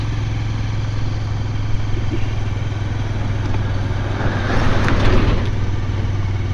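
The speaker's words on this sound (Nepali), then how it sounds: "र देख्न सकिन्छ सवारी साधन तीव्र गतिमा आउने जाने गरेको।" Vehicles rushing past at high speed on the Butwal–Narayanghat road, heard as a loud, steady engine and tyre roar that swells as one vehicle passes near the end, with no talk.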